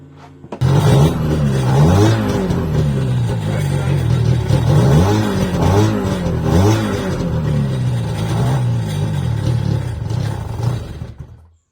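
Freshly built jet ski engine revving, a loud close engine note that rises and falls in repeated throttle blips before cutting off.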